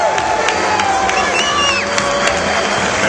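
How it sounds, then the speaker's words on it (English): A huge crowd at the NFL Draft roars and cheers as Hall of Fame greats are introduced, a dense, continuous, loud din with whoops and whistles rising above it throughout. "This crowd is insane."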